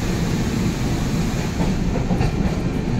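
Darjeeling Mail train crossing the Farakka Barrage at night, heard from on board as a steady rumbling roll with rhythmic wheel clatter on the rails, loud and continuous.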